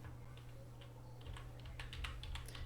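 Someone types on a computer keyboard, starting with a few scattered keystrokes and then breaking into a quicker run of close, crisp key taps over a low steady hum.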